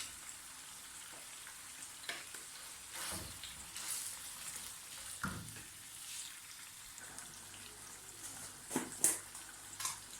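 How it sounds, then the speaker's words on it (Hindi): Ginger-garlic paste fries in a pan alongside vegetables and green chillies, giving a fairly quiet, steady sizzle. Occasional stirring clinks and scrapes stand out, one sharper clatter comes near the end, and no one speaks. "अदरक लहसुन का पेस्ट डाल दूँगी 1 चम्मच"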